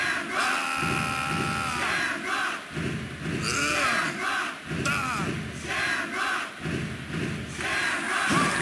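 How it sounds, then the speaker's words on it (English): A capacity wrestling arena crowd roars and cheers in the WWF Warzone video game, a dense continuous din with rhythmic surges and thumping pulses, loud and close, with no talking. "Listen to this capacity crowd."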